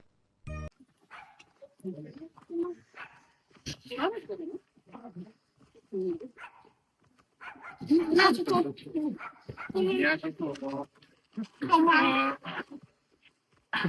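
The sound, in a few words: dog barking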